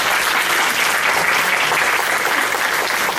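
Audience at a psychology conference applauds, a dense, steady burst of clapping that holds at full loudness from start to finish, with no voices over it.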